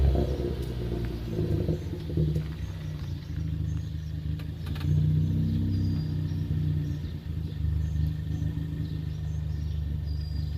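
A bagged Ford Focus ST fitted with a big turbo rolls up close by, its engine giving a steady low rumble with mild revving that rises and falls as it pulls in.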